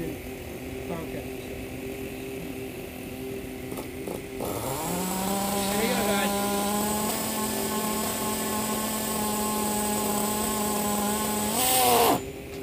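A nitro RC car engine idles with a high, buzzing drone, then revs up hard into a loud, sustained whine as throttle is given, and climbs again near the end.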